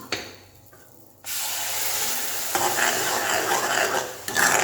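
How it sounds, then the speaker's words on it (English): Tomato puree lands in a hot pan for tomato tokku with curry leaves already in. A quiet start breaks into a sudden loud, steady sizzling hiss that flares again near the end. "Now I am going to add this tomato puree."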